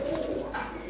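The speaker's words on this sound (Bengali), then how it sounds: "এটা কিন্তু একদম পুরানা জাতের দেশি কবুতর" A domestic pigeon of an old local breed gives a short, soft, throaty coo, close and clear, lasting under a second.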